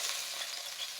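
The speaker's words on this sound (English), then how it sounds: "you hear that sizzle. That sizzle lets you know that the pan is right." A rib eye steak sears in a hot pan, giving a steady, close, continuous sizzle that holds at an even level throughout with no voices.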